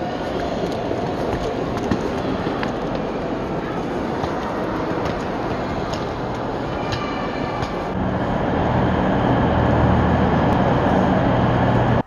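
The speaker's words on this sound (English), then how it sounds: "this train station has three different levels of trains" Busy, echoing multi-level station hall in Antwerp, Belgium, with a rumbling train and a continuous wash of background noise, the rumble swelling louder in the last few seconds.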